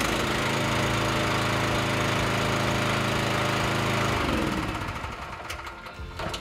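An Equipter 4000 engine is switched on and runs loud and steady with a buzzing, mower-like drone, then winds down and fades near the end.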